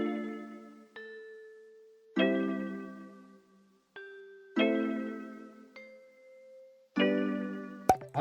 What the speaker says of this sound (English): For some texture, I added another bell.